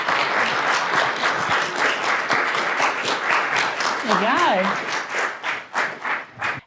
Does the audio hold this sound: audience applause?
yes